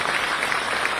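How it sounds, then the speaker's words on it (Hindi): An audience applauds at an awards ceremony for national sports championship winners, producing a dense, even wash of clapping that holds steady for a second. "तालियां कुछ कम पड़ रही हैं"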